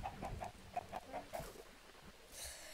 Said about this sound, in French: Pourquoi vous me pondez des œufs sur la gueule, bande de poulets là?